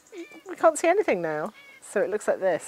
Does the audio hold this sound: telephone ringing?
no